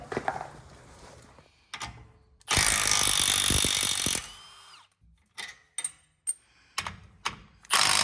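A ratchet with an 18mm socket works a steering stabilizer bolt on a truck, with a long loud burst of ratcheting followed by several short clicking bursts, close and alone.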